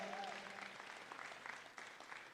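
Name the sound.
audience applause at livestock show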